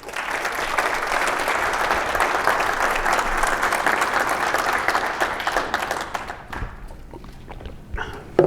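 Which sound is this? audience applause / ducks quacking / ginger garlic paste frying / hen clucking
audience applause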